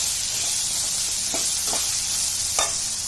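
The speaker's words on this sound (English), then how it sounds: "then we will add finely chopped onions to it and fry until the onions become soft" Finely chopped onions fry in a pan for white pumpkin curry, a dense, even sizzle and hiss close up, with a few soft scrapes of a spoon moving through them.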